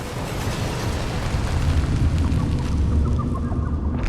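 A deep, sustained explosive roar rumbles through a Poppy Playtime scene, dense low-end energy swelling steadily across the whole stretch with no pauses, loud and close, ending with a brief bright burst.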